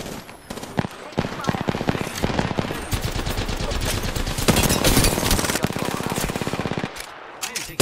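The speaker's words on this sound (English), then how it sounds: "Taking fire. I am taking fire." Rapid automatic gunfire from an Apex Legends battle, bursts of close, loud shots rattling almost continuously with brief gaps, mixed with game sound effects and a voice speaking over it.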